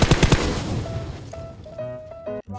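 A quick burst of close, loud gunfire in a shooter game, aimed at a fuel barrel on an island. A fast volley of shots fades into ringing tones and light game effects.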